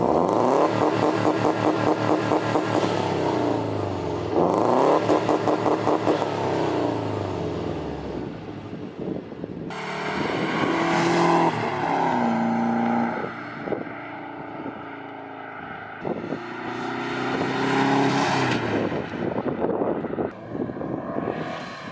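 A 2002 Subaru WRX with a Cobb catback exhaust revs repeatedly, the engine climbing and falling in long loud sweeps with a rasping, buzzy tone, heard up close and alone.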